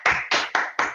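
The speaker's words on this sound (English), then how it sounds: "We can try like unmute ourselves and give a small round of applause to them." Four evenly spaced claps ring out close and fairly loud, a small round of applause over an online meeting connection, with no voices.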